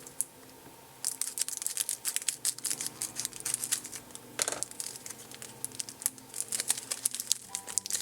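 A kit's packaging bag is cut open and unwrapped, giving close, continuous crinkling and rustling of plastic with irregular sharp crackles and no one speaking.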